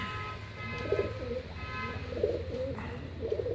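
Pigeons in a breeding loft coo softly in repeated low, throaty bursts, a few calls spaced over a quiet, faint background.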